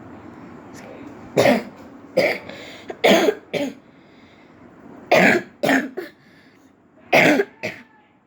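One person coughs close up, in short harsh bursts that come in pairs and small clusters across several seconds, with quiet pauses between them and no talking.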